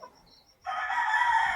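A rooster among hens in a lit poultry shed gives a short, close, loud crowing call after a brief quiet moment of soft clucking.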